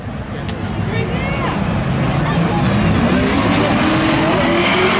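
Race cars launch in a spectator drag race at Seekonk Speedway, and a loud, steady engine roar rises in pitch as they accelerate away close by.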